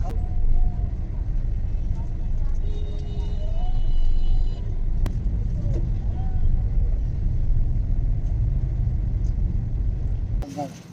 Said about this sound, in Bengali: রেলগেটে দাঁড়িয়ে রয়েছি সামনে দেখো কেমন জ্যাম হয়েছে